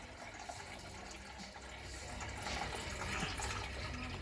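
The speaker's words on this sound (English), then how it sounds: "So pour off all the water." Water pours off washed chicken and splashes steadily into a container, a soft continuous gushing that grows slightly louder toward the end.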